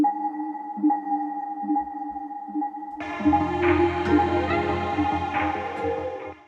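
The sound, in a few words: delay effect on sound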